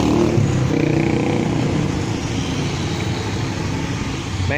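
Loud, continuous street traffic with engines droning and rumbling close by, a steady dense roar without pauses.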